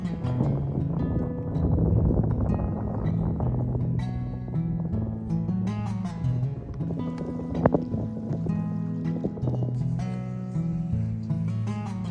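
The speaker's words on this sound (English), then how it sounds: "As the last of the day boats leaving for the day" A day boat's engine drones steadily at close range off Tilloo Cay at dusk, a low humming tone that rises and eases slightly as it passes, with wind rushing in the background.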